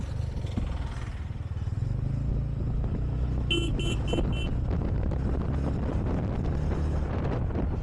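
A motorcycle creeps through a traffic jam on a bridge, its low engine rumble steady under heavy wind noise, with a brief burst of horn-like beeps from nearby traffic midway.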